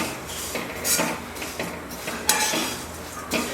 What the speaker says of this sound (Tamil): இப்போ நம்ம அவல் போட்டு வறுத்துட்டு இருக்கிறோம்